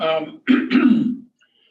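A short burst of throaty coughing from someone just over COVID, two rough harsh bursts close to the microphone, followed by quiet.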